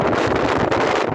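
Strong storm winds from Cyclone Shaheen roar steadily and loudly, a dense broadband rush that buffets the microphone throughout, with no voices.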